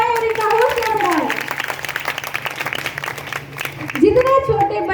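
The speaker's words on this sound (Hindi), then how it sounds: "तालियां बजाएं और इनका हौसला बढ़ाएं।" Audience applause at a children's stage program in India, a steady dense wash of clapping running throughout and fairly loud, with a presenter's voice speaking over it near the start and again at the end.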